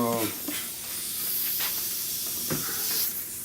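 A steady aerosol hiss of rust treatment sprays continuously for a few seconds onto a car's rusted radiator core support, close by, with a brief voice at the start and faint knocks underneath.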